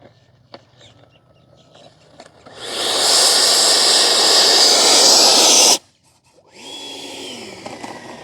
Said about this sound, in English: So this is my Motion RC free wing 90mm F-16 V2, and this one is converted to FPV.